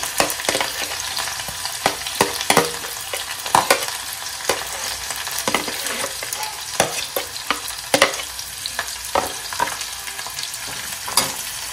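Chopped onion and curry leaves sizzle and crackle in hot oil in a pan while egg masala gravy is being prepared, a constant close frying hiss broken by sharp pops and a few stirring scrapes, with no talking.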